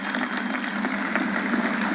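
An audience applauds, a dense, even patter of clapping that fills the whole short stretch.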